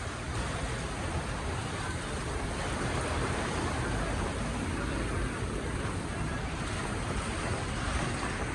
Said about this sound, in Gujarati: પતરા ઉડાડવાનું કરે એટલો પવન આવ્યો.